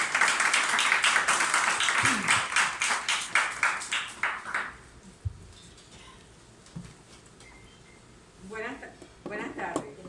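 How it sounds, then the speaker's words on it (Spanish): Applause from an audience at a poetry event commemorating Jorge Luis Borges, a few seconds of fairly close clapping that fades out, then quiet room noise with a voice speaking near the end. "Un aplauso para ella."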